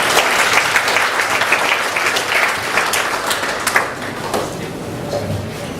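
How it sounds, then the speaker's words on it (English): An audience at the opening session of a youth peace training workshop applauds a professor with loud, dense, sustained clapping that thins slightly toward the end. "A round of applause please for Professor Jocelyn M."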